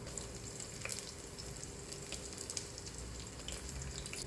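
Curry leaves, garlic, ginger and green chillies fry in a hot pan, making a continuous close sizzle with scattered sharp crackles and pops.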